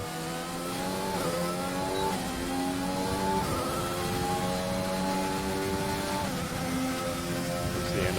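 A Formula 1 car on a flying lap at Marina Bay Street Circuit, Singapore, in a PC racing game, its engine screaming at high revs with steady upshifts and downshifts, loud and continuous throughout.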